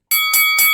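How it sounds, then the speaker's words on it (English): A bright bell is struck three times in an even rhythm on a podcast, each ring clear and ringing with metallic overtones, close and loud, with no talk over it. "Ring the bell while we're at"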